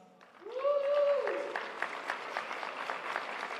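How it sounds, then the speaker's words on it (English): A graduation audience in a hall breaks into sustained clapping at an honors recognition, rising after a spoken name and holding as a dense, even wash of many hands. "Please join me in giving them one more round of applause."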